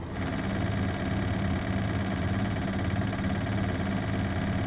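A Pilatus PC-12 single turboprop engine under throttle in Microsoft Flight Simulator, a steady, loud, continuous drone with a low rumble and hiss that holds level throughout, no voices present.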